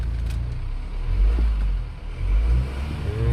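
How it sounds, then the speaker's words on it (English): A high-mileage 2015 BMW X4 20d xDrive diesel engine revs a few times, the low rumble swelling and dipping in short surges, close and unaccompanied by talk. "but the engine sound is very good."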